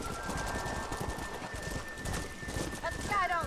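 Horses gallop in the Red Dead Redemption video game, a faint, continuous clip-clop of hooves beneath steady rain, with a short whinny near the end.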